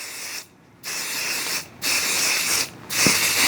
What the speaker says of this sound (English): spray our basting spray onto this hoop